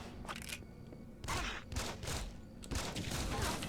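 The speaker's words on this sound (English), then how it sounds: "Oh, fucking flamethrower, boys." Flamethrower turret from the game Deus Ex: Invisible War, firing in repeated loud roaring bursts that swell and fade, with several close blasts in quick succession.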